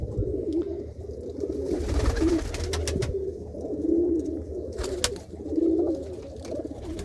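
Pigeons of a fancy breed coo repeatedly in a loft, soft rolling calls close by in a low, pulsing rhythm, with a few sharp knocks and flutters in between.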